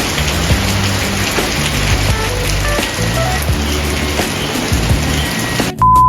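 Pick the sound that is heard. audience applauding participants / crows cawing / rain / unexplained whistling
rain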